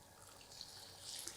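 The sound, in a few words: hot boiling water being poured into semolina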